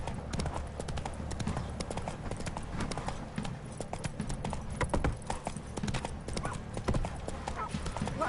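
Roach the horse trots in The Witcher video game, giving steady rhythmic clip-clop hoofbeats with a brief whinny, while game characters talk over them.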